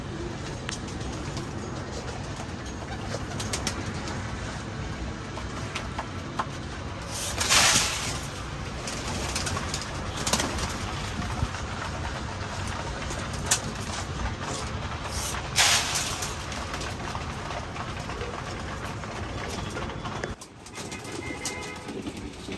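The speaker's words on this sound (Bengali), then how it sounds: "আজকে পিজন্সগুলি আমরা উপরের পার্টিশনে দেখেন কত সুন্দরভাবে ছাড়া হয়েছিল" Pigeons coo softly and repeatedly inside their loft, close by over a constant busy background, with a couple of brief flutters or scrapes and no talking.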